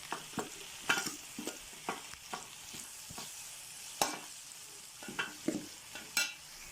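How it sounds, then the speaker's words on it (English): Ingredients for Nigerian fried rice being stirred in a pan, repeated spoon scrapes and knocks over a faint sizzle, heard close and fairly quiet with no speech. "so that is how you continue to stir it."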